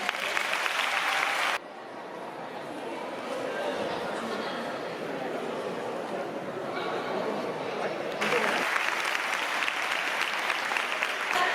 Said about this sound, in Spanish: Así que un fuerte aplauso, por favor, para Ernesto.